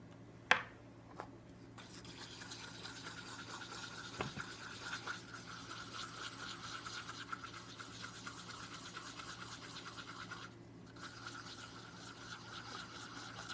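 White pigment is stirred into liquid silicone for a squishy pumpkin, giving a soft, steady scraping and swishing of a mixing stick in a cup, with a couple of light taps near the start and no talking.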